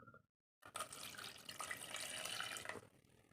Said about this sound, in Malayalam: ഇനി നമുക്ക് കുറച്ച് വെള്ളം ഒഴിച്ചു കൊടുക്കാം